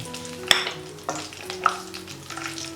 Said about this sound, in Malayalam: ഞാൻ ഇതിനായിട്ടൊരു പതിനഞ്ച് കശുവണ്ടി രണ്ടായിട്ട് സ്പ്ലിറ്റ് ചെയ്തെടുത്തിട്ടുണ്ട് എണ്ണയിലിട്ടൊന്ന് വറുത്തെടുക്കാം